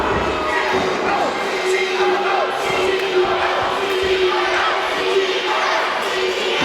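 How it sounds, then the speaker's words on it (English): Wrestling fans at a show in Bonnybridge cheer and shout as a steady crowd roar, moderately loud throughout, with a commentator talking over it. "You hear the fans here in Bonnybridge cheer"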